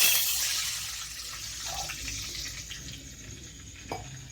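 Water poured from a glass into a kadai while making suji (semolina) namkeen snacks, a soft, fairly quiet splashing trickle with a couple of small clinks near the end.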